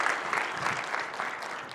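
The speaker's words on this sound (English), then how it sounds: "Can we give her a round of applause for that demo?" An audience applauding after a software demo, steady dense clapping throughout at moderate loudness with no talk.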